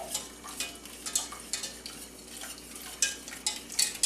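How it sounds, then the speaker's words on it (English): Whisk scraping and clinking against a pot while milk, cream and egg mixture is stirred into coconut cream pie filling, a quick irregular rhythm of light metallic taps and swishes, close and fairly quiet. "slowly stirring constantly, you're going to add your milk, cream, egg mixture"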